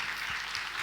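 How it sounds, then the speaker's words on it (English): Audience applause at an HR technology conference summit in Dubai, a steady dense wash of clapping from a crowd heard briefly and fairly quietly. "a round of applause. She made it work."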